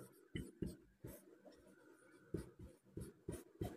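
Pen strokes on paper while writing out a math solution, a series of quick scratchy marks in irregular bursts, close and quiet.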